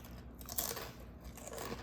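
Fritos corn chips crunch between the teeth in close, crisp bites, a few bright cracks followed by quieter chewing, with no talking.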